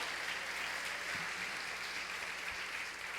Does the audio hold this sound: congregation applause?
yes